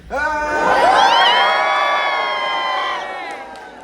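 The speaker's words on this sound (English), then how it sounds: "if maybe some of you aren't as brave, you could clap and cheer." Graduating class cheering loudly at a commencement ceremony, a big crowd of whoops and yells swelling together and sustained for several seconds before tapering.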